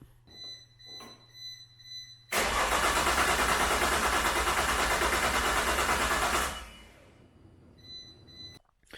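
A Nissan RB26 engine built to 600 horsepower cranks and catches, roaring loudly at a steady run for about four seconds before cutting off, with quieter shop noise on either side.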